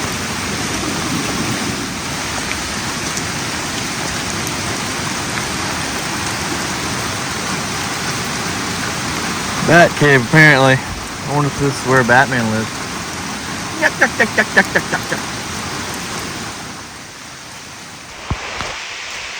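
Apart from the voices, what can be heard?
heavy rain while creek fishing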